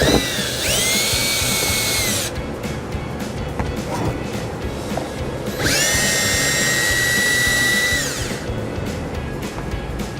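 A power drill whines in two sustained bursts, about two seconds and then nearly three seconds long, spinning out the bumper fascia screws on a 2013 Ford Escape, close and loud, with quieter shop noise between the bursts.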